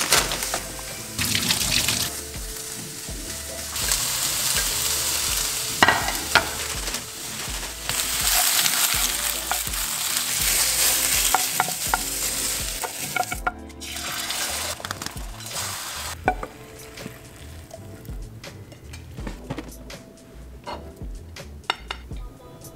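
Spinach and tomatoes fry in a pan with a continuous sizzle and hiss that rises and falls, mixed with stirring clatter and what sounds like running water, close by with no talk.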